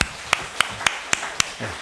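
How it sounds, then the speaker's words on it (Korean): Five sharp, evenly spaced hand claps ring out in a steady rhythm during a Sunday church service, fairly close and otherwise quiet, with no talk over them. "박수 한번 하겠습니다"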